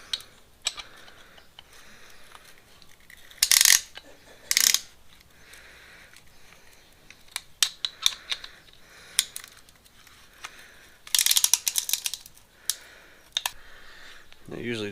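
Ratchet wrench cranking over a Jeep 4.2-liter 258 CID inline-six engine during a rebuild, heard as scattered short clicking bursts, some louder ratchet runs near the middle and end, with faint background talk.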